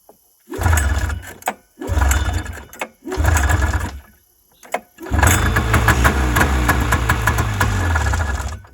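A 1977 Yamaha Exciter vintage snowmobile engine starting in three short revving bursts with brief gaps, then catching and running steadily, loud and close.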